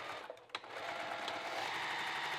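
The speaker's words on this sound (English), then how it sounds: "let's put these right sides together and sew" A sewing machine stitches sweatshirt fabric in a steady, fast mechanical whir that settles into a continuous hum after a couple of brief knocks at the start; close and alone.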